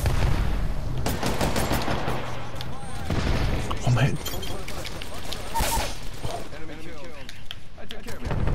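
Gunfire in Apex Legends comes as loud, rapid bursts of automatic shots and booms, close and continuous, with excited players talking over the fighting.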